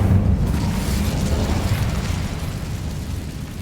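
The Incendio fire spell is cast in Hogwarts Legacy, producing a loud, roaring whoosh of flame that is strongest at the start and slowly fades with a low rumble.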